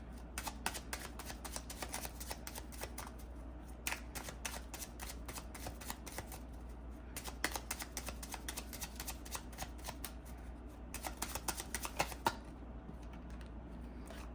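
Tarot cards being shuffled up close, a steady stream of soft crisp riffling clicks with denser bursts, quiet and alone without talk.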